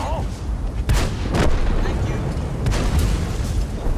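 Gunfire in a team shooter video game during a flanking skirmish, with several sharp shots bursting at irregular intervals over a constant low rumble of battle noise.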